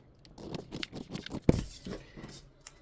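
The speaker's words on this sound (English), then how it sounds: "Next, I'll go ahead and cut out the waist." Scissors snip through fabric while cutting out the waist piece of a skirt, a run of close, soft rhythmic cuts with one sharper clack in the middle.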